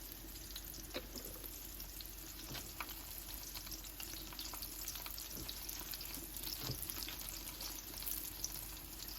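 Pickles frying in a thin film of oil on a Blackstone griddle make a dense, even sizzle that holds steady throughout, close and continuous with no talking.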